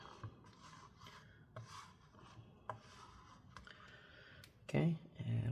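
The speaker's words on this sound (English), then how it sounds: "I'm going to have to scrape up more of the JB Weld" A tool scrapes up JB Weld epoxy during a laptop hinge repair, making a series of soft, close rasping strokes with light clicks. A brief voice breaks in near the end.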